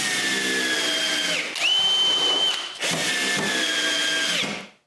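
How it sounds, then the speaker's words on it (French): A power drill drives screws to fasten stops firmly onto plywood, two long whining runs with a brief pause between, loud and close with no talking. "J'ai juste à visser des butées fermement sur le contreplaqué."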